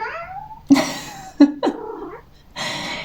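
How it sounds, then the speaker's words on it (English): A cat meows and yowls several times up close, drawn-out cries broken by short pauses. "She's like meowing in the background."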